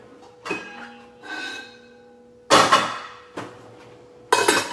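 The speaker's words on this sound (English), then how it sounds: "we're gonna put a lid on" Metal lid set onto a Saladmaster pan holding tortillas, several separate clanks and clinks of cookware, two louder bangs later, close and with no talk.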